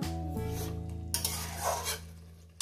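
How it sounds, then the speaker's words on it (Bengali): Jackfruit curry with mutton mince and fat is stir-fried in a pan, with steady scraping and rasping strokes of the spoon over a low background hum. "তো সুন্দর করে কষিয়ে নেবে।"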